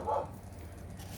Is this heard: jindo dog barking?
yes